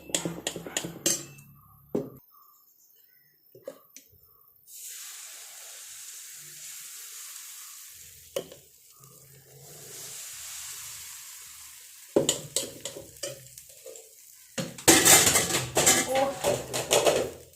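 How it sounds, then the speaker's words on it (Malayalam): Appam batter frying in a pan at home, with a soft hiss and sizzle broken by sharp clinks and knocks of a lid and pans, and a clattering burst near the end, under occasional talk. "അപ്പം അങ്ങ് ചുട്ടേക്കാം."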